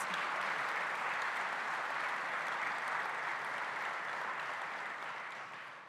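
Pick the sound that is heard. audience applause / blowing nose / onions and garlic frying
audience applause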